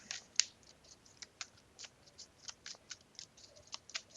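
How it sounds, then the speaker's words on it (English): A deck of My Little Pony trading cards is shuffled by hand, giving a quiet series of crisp, irregular snaps and flicks that are close and faint, with no talking. "Just trying to shuffle real quick."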